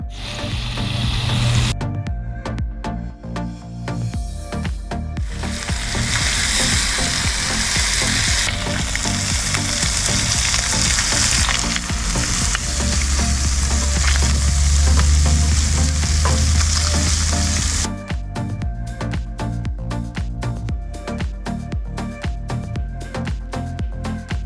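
Fish sizzles loudly and steadily in a frying pan, with a dense crackling hiss that swells in the middle and holds close and constant, with no talking.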